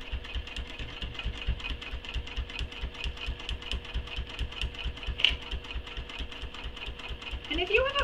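A sewing machine runs steadily while top stitching a nylon bag, its rapid even needle strokes continuing for several seconds and slowing near the end.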